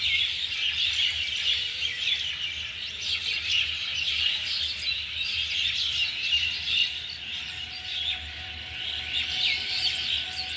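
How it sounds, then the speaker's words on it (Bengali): Many birds chirp and tweet continuously in the morning, heard from a rooftop, a dense, steady chorus at moderate distance with no voices. "দেখো পাখিদের আওয়াজ"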